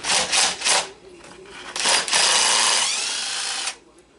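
Power tool, likely a cordless impact driver or drill, working fasteners while the ignition coil and its wiring are removed from a Stihl 066 (MS 660) chainsaw during teardown; several short bursts, then one longer sustained run, close and loud.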